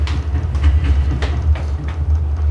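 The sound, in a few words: Mumbai local train running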